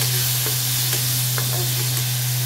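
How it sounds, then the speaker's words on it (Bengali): Okra curry with onion, garlic, coriander, cumin and turmeric stir-frying in a pan gives a steady sizzle, with a few soft scrapes of stirring and a constant low hum behind it. "আর ধনে জিরে হলুদ গুঁড়ো, নর্মাল মশলা দিয়ে তার ভেন্ডি তরকারি করে নিচ্ছি।"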